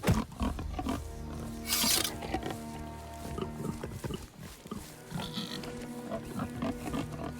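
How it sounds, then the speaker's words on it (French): A pig grunting in the Of Ash & Steel video game, rough repeated grunts and snorts amid rustling and game sounds, fairly close and moderately loud. "Oh, cochon."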